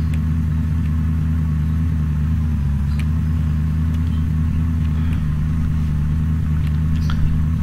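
A car drives in the Unturned video game, a steady, loud low engine rumble with a mid-pitched idle-like drone that holds constant throughout, with no talking.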